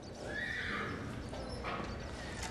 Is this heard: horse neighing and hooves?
yes